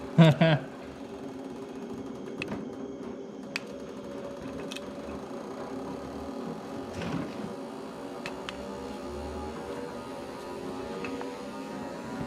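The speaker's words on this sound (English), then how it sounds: "Hear the fucking injector cleaner going ham over there" Fuel injector cleaner machine running in a garage during an SR20DET engine build, a steady mechanical buzzing and rattling hum in the background, with occasional clicks and a brief louder knock at the start.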